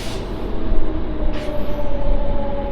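MEMU passenger train of eight coaches on the Nidadavolu to Bhimavaram route, stopped at Manchili railway station: a steady low rumble and hum with a faint tonal whine, and a couple of brief hissing bursts, with no voices.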